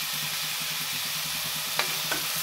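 Crushed garlic and ginger sizzle and fry in a hot pan over a high gas flame while being stirred, a steady close frying hiss with a couple of brief sharper scrapes of the spoon.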